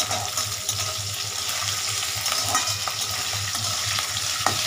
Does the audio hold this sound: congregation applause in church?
no